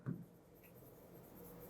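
Pen writing on paper during a maths lesson, a short faint scratch of strokes at the start, then quiet room noise.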